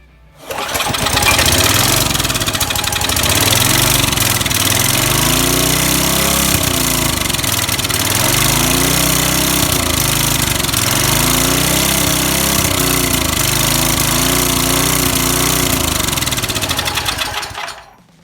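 An old engine with no fuel in its tank runs steadily and loudly close by, a rhythmic chugging throb that holds for about seventeen seconds before cutting off.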